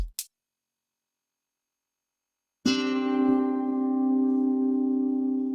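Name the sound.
sus2 chord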